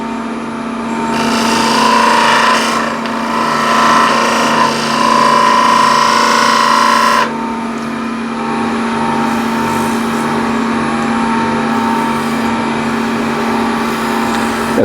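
A small spindle gouge cuts spinning wood on a lathe while the motor drones steadily underneath; a louder scraping cut runs for several seconds before it lifts off and only the humming lathe remains.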